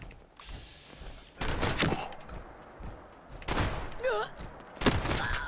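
Gunfire in Fallout 76, three sharp bursts at roughly two-second intervals, each loud and close with a ringing tail, over low in-game background noise.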